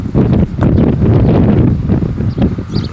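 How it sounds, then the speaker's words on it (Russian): Strong gusty wind of about 12 m/s buffets the microphone outdoors in a loud, rumbling roar that surges and dips in uneven gusts, with no voices. "такой ветер сегодня 12 метров в секунду"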